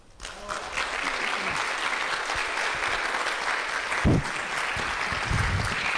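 An audience in a parish hall applauds a priest after his lecture on Saint John Paul II, a sustained, even wash of clapping from many people with a slight swell near the middle.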